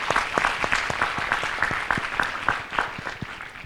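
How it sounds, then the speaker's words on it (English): A modest audience at a talk applauds a guest, with individual claps distinct and fairly close in an uneven rhythm, moderately loud with no talk over it. "I think she needs a very big round of applause."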